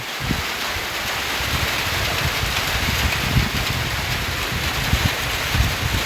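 Heavy rain pours steadily through a night storm in cold weather, a dense continuous hiss with gusting wind noise and low rumbling buffets throughout, close and loud, with no talking.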